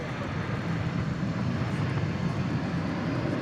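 At night at DFW Airport, an airliner on its takeoff roll on runway 17 right makes a steady, even, distant broadband roar that holds unchanged throughout.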